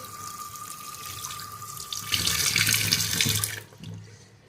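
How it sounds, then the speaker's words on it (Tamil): Water is poured onto sugar, running and splashing steadily, growing louder and fuller midway before cutting off, with a few softer splashes after. "ரைஸ் தண்ணி ஊற்றுறோம்"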